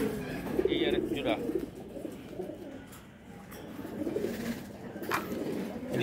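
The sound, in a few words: pigeons cooing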